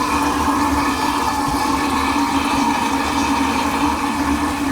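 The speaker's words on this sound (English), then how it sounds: "I'm gonna open this so that there's gonna be a gush of water" Water gushes steadily and loudly from a newly installed bathroom faucet, a continuous rushing flow that holds constant throughout.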